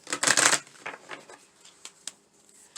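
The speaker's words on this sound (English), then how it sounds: "I think I'm going to shuffle from the Queen of the Moon Oracle to close the reading." Queen of the Moon oracle cards being shuffled by hand: a dense riffling burst at the start, then scattered lighter card slaps and taps trailing off, close and without speech.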